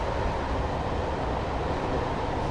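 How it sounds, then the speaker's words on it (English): A train coasting along the Sheffield to Manchester route via Woodhead in Train Simulator 2017, slowing toward 60 mph, gives a steady, dense rumble of wheels and carriages that stays loud and unbroken throughout. "The train's now comfortably coasting down towards 60 miles per hour."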